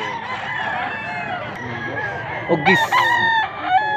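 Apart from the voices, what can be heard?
roosters crowing and clucking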